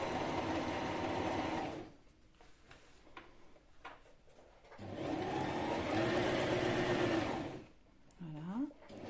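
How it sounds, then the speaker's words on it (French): A sewing machine stitches fabric edge to edge along notches about 5 mm from the edge, whirring loudly and close in two bursts separated by a quiet pause with soft handling sounds; someone speaks near the end. "Et on va venir coudre le long des encoches comme ceci"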